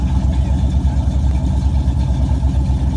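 A Mercedes S63 AMG engine idles with its hidden silencer system, a deep, steady burbling rumble heard close and loud, with a faint voice underneath.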